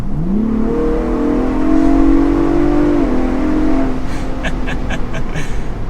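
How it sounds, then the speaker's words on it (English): A 2023 Ford Bronco Raptor's stock exhaust revs in sport mode with the louder setting engaged: the engine note climbs quickly, holds high for a few seconds, then drops away, leaving a low idle and a few light ticking sounds. "if you toggle it up to have that little bit louder stock exhaust"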